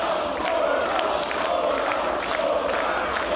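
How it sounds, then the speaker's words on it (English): A wrestling arena crowd roars in a loud, sustained wash of cheering and shouting, with scattered louder yells rising from the mass of voices. "But listen to this crowd as well."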